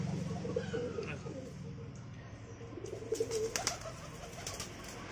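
Caged pigeons coo in low, throaty repeated calls close by, with occasional chirps and rustling, while a person talks over them.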